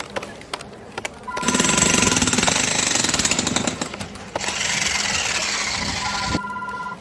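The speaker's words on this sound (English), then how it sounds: "I'm watching a video of a worker doing concrete drilling at a construction site." Loud, rapid hammering of a concrete drill in two long bursts with a brief pause between, close by, with scattered knocks before and after.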